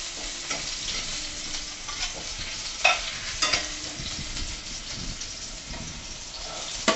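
Crushed garlic frying in hot oil with mustard seeds and cumin, giving a steady close sizzle with occasional sharper pops and crackles, no voices.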